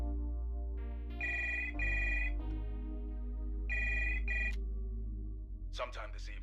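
Repeated electronic ringing tones from a phone being dialed in a video game, with two pairs of bursts separated by pauses, steady and fairly loud over a low background hum, ending with a brief different sound.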